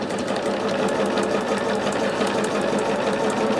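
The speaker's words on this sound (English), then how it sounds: "This is just strictly, we are sewing it together." A sewing machine runs nonstop while stitching two fabric pieces together at a quarter-inch seam, giving a loud, close, steady whirring drone with rapid needle chatter.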